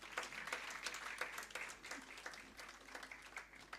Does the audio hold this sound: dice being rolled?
no